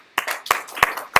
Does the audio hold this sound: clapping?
yes